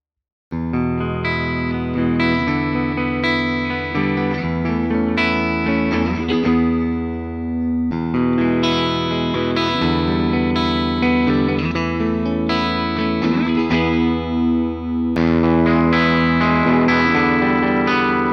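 A 1981 Gibson Flying V electric guitar plays continuous chords and melodic lines through distortion and chorus effects, sustained and loud with brief breaks between phrases, no talk.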